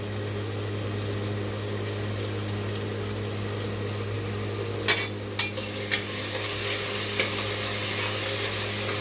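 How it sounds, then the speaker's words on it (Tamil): Ginger garlic paste sautéing in a pan for potato rice, with a steady low frying hiss, a constant hum underneath, and a few sharp clinks of a stirring spoon partway through. "இஞ்சி பூண்டு பேஸ்ட்டு போட்டுட்டு நல்லா பச்சை வாடை போட்டு நல்லா வதங்கணும்"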